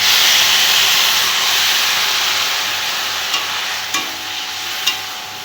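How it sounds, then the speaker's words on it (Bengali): Water poured onto frying vegetables in a pan bursts into a loud steamy hiss that slowly fades, with a few sharp clinks of a spoon against the pan near the end. "এখন আমি একটু জল দিয়ে সবজিটা সেদ্ধর জন্য দিয়ে দেবো"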